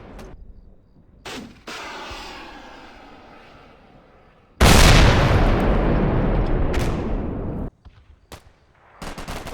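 Combat Mission: Black Sea firefight between recon troops and defending Russians. Scattered shots and a rumbling volley give way to a long, loud stretch of dense automatic fire and blasts, then sharp single reports. No voices.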